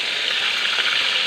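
Fish fried at home in a pan, a dense, even sizzle of hot oil up close, steady throughout with faint crackles and no voices.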